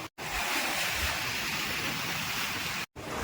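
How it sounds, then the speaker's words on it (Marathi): Rough, churning sea heard from a fishing boat: a loud, steady broadband roar of surf and wind that cuts out briefly at the start and near the end. "खवळलाय समुद्र."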